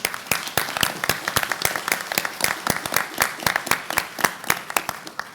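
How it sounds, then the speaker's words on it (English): A small workshop audience applauds with distinct, evenly paced sharp claps standing out over softer clapping, a modest, fairly close round that carries on steadily for several seconds. "I wanted to have the whole crowd give a big round of applause to Kate Flaherty."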